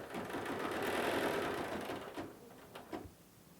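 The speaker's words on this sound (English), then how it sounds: "I'm going to go ahead and push start and go ahead and let it do its little stitching here" A Bernina 770 embroidery machine stitches an appliqué design with a quiet, steady mechanical whirr that fades and stutters in the last second.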